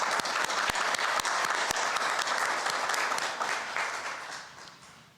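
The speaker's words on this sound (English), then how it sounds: "Could you stand up, please, and a round of applause?" Conference audience breaks into loud, full applause, sharp individual claps ringing out early before the sound gradually thins and fades toward the end.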